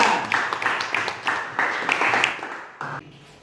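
Audience applause after a group presentation in a classroom, a few short bursts of clapping that rise and fade in quick succession, fairly close.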